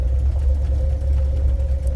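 A 1978 Ford pickup truck engine runs steadily close by, a constant low rumble with a sustained droning tone and a faint light ticking from the exhaust, with no voices.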